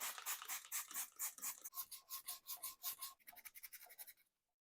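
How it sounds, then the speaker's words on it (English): Parts of an old antique one-ton chain hoist get scrubbed by hand, a fast run of rhythmic rasping strokes close to the microphone that turns quicker and lighter before stopping abruptly. "it's just going to be me scrubbing my old antique hoist"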